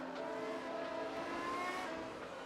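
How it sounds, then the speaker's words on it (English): Racing cars braking into turn 1 side by side at Mexico, heard as a loud, continuous engine drone with steady, layered pitch and no pauses. "as we head into the braking zone for turn 1, looks like both of them are going side by side into the corner"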